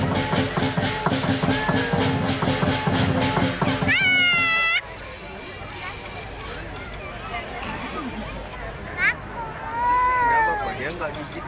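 A cat meows repeatedly amid a noisy, crowded Indonesian Independence Day street festival with lion dance and pole-climbing, its rising, drawn-out calls standing out over music and chatter, then coming nearer and clearer toward the end.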